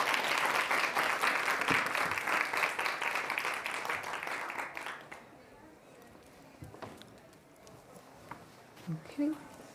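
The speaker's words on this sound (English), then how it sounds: "please give a warm round of applause for Tuli once again" Audience applause for a speaker at a women-in-cybersecurity conference, a full round of clapping for about five seconds that fades to quiet room noise, with brief voices near the end.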